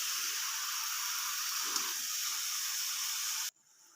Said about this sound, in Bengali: এবারে আমি চিকেনের মধ্যে পেঁপেটা দিয়ে কষিয়ে নেব।